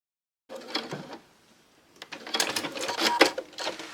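A sewing machine stitches a second seam along a jeans zipper tape, close to the zip teeth. A short burst of stitching is followed by a pause, then a longer, louder run of rapid mechanical chatter.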